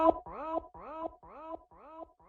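Five repeated pitched-up vocal 'go' stabs from a stock FL Studio voice sample, played in a steady rhythmic pattern, each short syllable with a bending harmonic tone, loud and alone.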